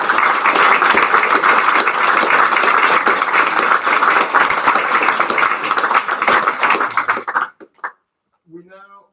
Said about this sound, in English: can we have a special round of applause